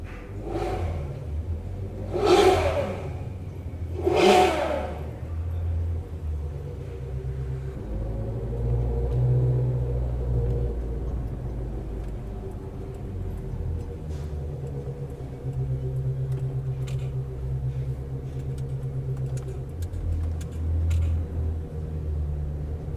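A car at a cars-and-coffee meet rumbles close by with a deep, steady low idle, joined by a few brief revs near the start and then a sustained growl that holds for the rest of the stretch, with no voices over it.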